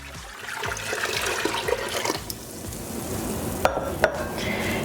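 White vinegar and water are poured into a pot for a garlic and dill pickle brine, a continuous close splashing and gurgling pour with a couple of sharp knocks near the end and no talking.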